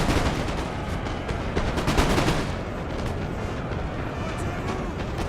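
Massed musket volleys in a Napoleon: Total War online battle crackle continuously, dense overlapping gunfire rolling loud and steady throughout with no pauses.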